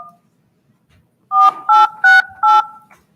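Telephone keypad tones sound as a member dials into a school board meeting by phone: four loud, evenly spaced dual-tone beeps, clean and close, after a brief faint blip.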